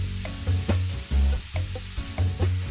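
Ground beef, an 80-20 coarse grind, browning with onions in a pan, giving a steady close sizzle with rhythmic stirring scrapes and clunks every half second or so, no one speaking.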